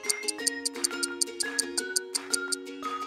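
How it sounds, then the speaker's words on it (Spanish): Saxophone playing a short sequence of sustained, reedy notes that step between pitches, with light clicks at each note change and no talking. "Saxofón."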